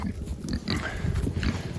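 Several Kunekune pigs grunt and snuffle continuously at close range, low rumbling grunts overlapping with a few brief higher squeaks, no voices over them.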